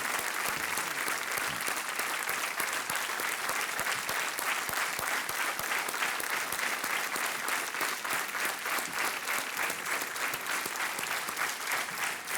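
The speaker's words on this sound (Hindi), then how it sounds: "तालियों के साथ इनका स्वागत कीजिए।" Steady, dense applause from a studio audience on the Kaun Banega Crorepati set, welcoming guests onstage, sustained and loud throughout without a break.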